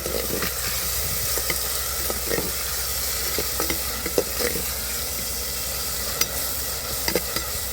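Tomatoes sautéing with rock salt in a pan for a fish curry, a steady close sizzle and hiss with occasional soft stirring scrapes, continuous and unbroken, no voices.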